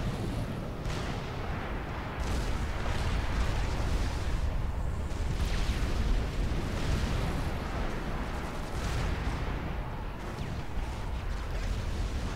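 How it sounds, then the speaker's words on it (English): Artillery rains down in the strategy game Forged Alliance during a 3v3 ladder match on a beach map, a continuous rumbling barrage of overlapping explosions and booms with no letup. "that artillery is just raining down unchecked, getting some nice damage done on Coal Team's base."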